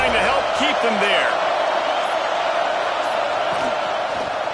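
A football stadium crowd roars in a continuous, dense wall of noise, with a commentator talking over it early on.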